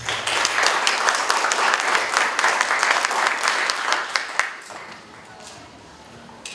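A conference audience applauds a speaker: brisk, dense clapping for about four seconds with a few sharper claps standing out, then quickly fading to quiet room tone.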